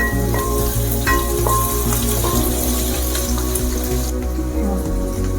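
Onions and green chillies frying in hot oil for prawn pulao, with a loud, continuous close sizzle and occasional stirring clicks and no talking.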